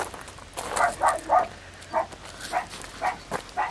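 A completely black dog barks in a series of sharp, fairly close woofs, about eight in under four seconds, spaced irregularly, with quiet background between them.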